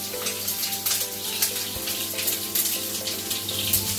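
Onions stir-fry in a pan at home, a continuous watery sizzle with faint scraping, close and steady, no voices.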